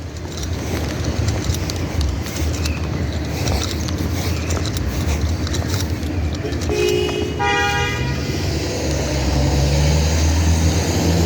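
Car horns toot in busy traffic, several short honks and a longer blare stacking up around the middle and end over a steady rumble of idling and passing vehicles.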